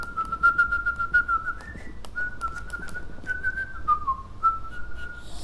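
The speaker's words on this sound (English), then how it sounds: "A teacher like me would come along with texters in" A person whistles a steady, tuneful melody alone, the notes held and gliding in a clear, fairly close line.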